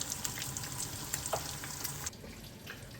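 Fish curry (chepala kura) simmering and sizzling in a pan, a steady close frying hiss with faint stirring clinks, quieter in the final second, no talk.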